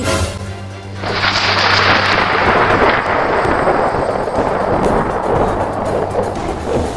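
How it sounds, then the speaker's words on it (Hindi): A village thunderstorm breaking as rain starts: a low rumble then a sudden loud, dense wash of heavy rain that swells and holds steady, close and broad, no speech over it. "बारिश होने लगी, बारिश होने लगी।"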